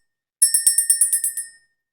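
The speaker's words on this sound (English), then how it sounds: "That was a decisive bell." A small bell is rung to clear the energy before a card reading: about ten quick bright strikes in a rapid run, ringing clear and close, then fading to silence.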